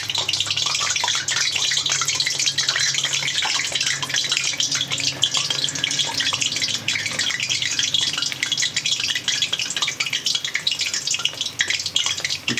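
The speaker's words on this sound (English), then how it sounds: "Now keep on moving the oil around and let the oil deep fry" Ham Sui Gok dumplings deep frying in hot oil, a steady, dense hiss and crackle that continues evenly throughout without pauses or voices.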